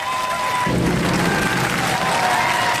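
A studio crowd at a Robot Wars arena applauds and cheers in a steady roar, loud and close, during a robot combat heat.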